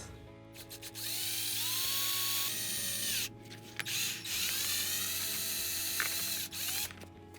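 A power drill bores holes through a seat template for a Super Cub motorcycle, with bursts of whirring motor and grinding separated by short pauses, loud and close, no talking.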